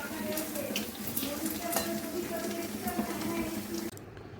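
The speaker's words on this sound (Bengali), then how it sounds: "চলো আলুর পকোড়াগুলো করে নিই।" Potato pakoras fry in a pan with a steady, close sizzle and crackle that carries on evenly for a few seconds before cutting off abruptly near the end.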